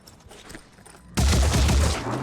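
Gunfire in the video game Phoenix Point, a sudden loud burst of rapid shots after a quiet stretch, continuing as a dense, heavy volley to the end.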